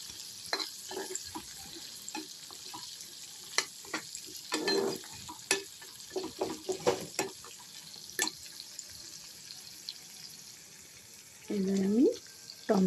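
Chopped tomato goes into a frying pan of okra and tender jackfruit seeds, with intermittent spatula scrapes and stirring over a soft sizzle, and a louder sizzling burst near the end.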